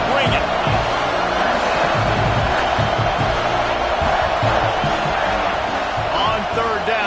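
Football stadium crowd cheers loudly and continuously during a game, a dense roar with whoops and thumps underneath an announcer's play-by-play voice.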